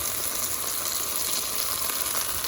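Chopped garlic frying in olive oil in a pan, a steady loud hiss of sizzling that holds evenly throughout, with no talking.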